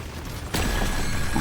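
A mine detonates in the Deep Rock Galactic Survivor game: a sudden broadband burst cuts in midway and holds as a loud, dense rumble over a quieter game background.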